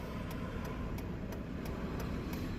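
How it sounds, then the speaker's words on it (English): Road traffic passes by in a continuous low roar of engines and tires, with a regular light ticking repeating every third of a second over it and no voices. "And all this traffic."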